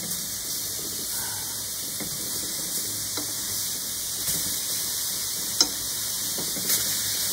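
A turkey burger frying in a pan gives a steady, close sizzle and hiss that holds through the whole stretch, with a few brief sharper pops and spatters.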